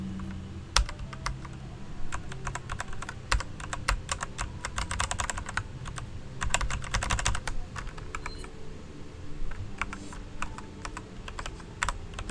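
Rapid, uneven clicking of computer keyboard keys while playing Resident Evil 4, close and continuous with bursts of quick presses, with no talking.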